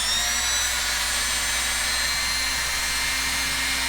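Hardell rotary tool running steadily with its flexible extension attachment fitted, a loud continuous high-pitched whine with a constant motor hum and no change in pitch.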